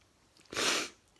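One close sneeze, a single fairly soft burst of air rising out of quiet background and fading within half a second.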